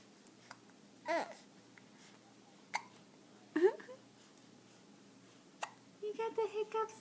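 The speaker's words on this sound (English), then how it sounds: "You got the hiccups" A baby hiccups several times, small sharp catches spaced irregularly, followed by soft babbling vocal sounds near the end in a quiet room.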